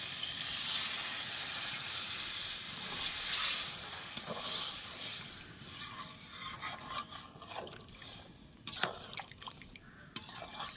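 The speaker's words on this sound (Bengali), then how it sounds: "এবার আমি এতে গরম করে রাখা জল দিয়ে দেবো।" Hot water poured into sizzling mutton kosha in a pan sets off a loud hissing burst of steam that slowly fades, followed by softer bubbling and a few metal utensil clinks.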